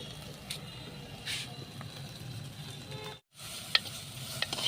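A taro leaf dish being stirred in a hot clay pot just taken off the heat, a soft scraping and sizzling with occasional sharper clicks, close and fairly quiet, broken briefly by a gap.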